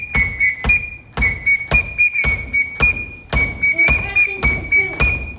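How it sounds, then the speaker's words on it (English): A Tanzanian whistle is blown in a series of sharp, loud blasts with brief gaps between them. Its tone shifts between bursts, and some blasts waver or trill. "And this whistle's cool because it makes different sounds."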